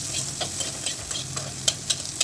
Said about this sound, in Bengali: কড়াই কুচি করা পেঁয়াজ, তার সাথে কিছু কাঁচা লঙ্কাও আছে, সেটাকে ভালো করে সাঁতলে নিতে হবে